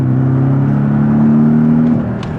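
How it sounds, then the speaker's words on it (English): A Porsche 718 Cayman with a 2-liter turbo flat-four accelerates hard, its engine drone climbing steadily and loud from inside the car, then easing off at the end. "So let's just hit it. Now there is a bit of turbo lag, and then it starts picking up."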